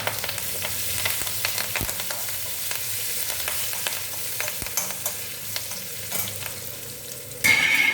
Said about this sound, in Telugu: కరివేపాకు వేసాను కదా ఇది వేగుతూ ఉంది